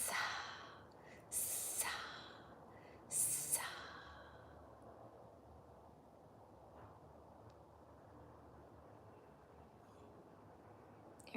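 Two sharp, forceful breath bursts of a breath of fire exercise, close and loud in a quiet room, followed by a long stretch of near silence with faint breathing.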